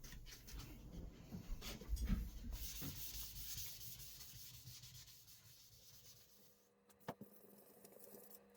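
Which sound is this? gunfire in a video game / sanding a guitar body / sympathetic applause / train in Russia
sanding a guitar body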